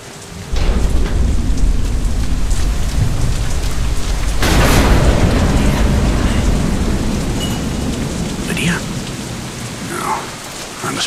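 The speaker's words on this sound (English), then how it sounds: "Damn storm." Heavy rain pours steadily in a Deadlight storm, with a loud thunderclap cracking in about midway and rumbling on under the downpour.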